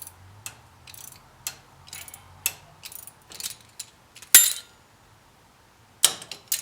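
An 8mm ratchet wrench loosens a stubborn bolt on a second-generation Dodge Ram 1500 4x4, giving a series of close, quick clicking bursts in an uneven rhythm with a few sharper metallic knocks.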